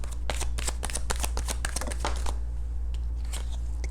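A tarot and Kipper card deck being shuffled by hand, a rapid run of crisp riffling card flicks up close for about two seconds, then a few softer, scattered card taps, with no talking.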